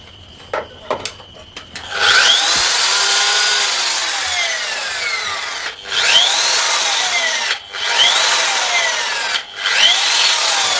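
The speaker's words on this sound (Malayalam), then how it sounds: "അടുത്തത് നമുക്ക് ഡ്രിൽ മെഷീൻ. എത്ര വാട്ട്സ്? മക്കിത്ത ഡ്രില്ലാണ്," A 400-watt Makita electric drill runs on a 1000-watt mini power inverter. After a few clicks it spins up to a loud, steady whine, then briefly stops and restarts several times.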